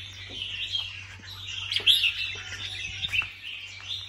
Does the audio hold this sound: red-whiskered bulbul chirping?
yes